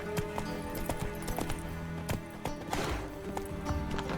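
Hooves of the horse Roach clip-clop steadily in The Witcher 3: Wild Hunt, a brisk regular trot over a busy background with a brief whinny-like sound.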